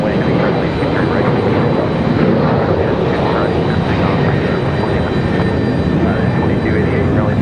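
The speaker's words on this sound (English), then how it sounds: "Nice departure for Copa 467." A Copa Airlines jet departs runway 23 right at Raleigh-Durham International, its engines producing a loud, steady broadband roar that holds for the whole stretch without a break.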